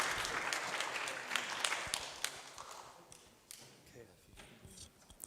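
Audience applause at a conference session, a dense patter of clapping with scattered sharper claps, steady then gradually thinning toward the end.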